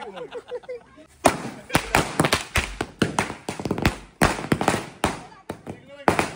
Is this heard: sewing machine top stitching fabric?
no